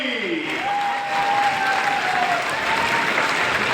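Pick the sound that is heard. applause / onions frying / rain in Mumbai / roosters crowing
applause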